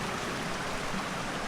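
Creek water flows steadily at a hiking trail crossing, a continuous close broadband rush with no voices over it.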